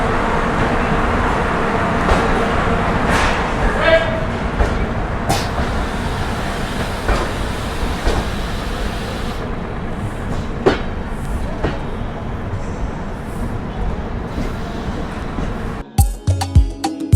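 A Duronto Express train runs from Pune toward Delhi, heard from inside a 3rd AC coach as a loud, steady rumble with rhythmic clickety-clack of the wheels and occasional clunks throughout.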